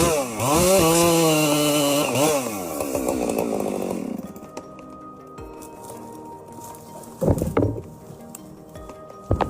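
A small chainsaw revs hard while cutting into a tree, its pitch rising and dipping through the cut before it cuts out, followed by quieter scattered knocks and cracks as the tree comes down.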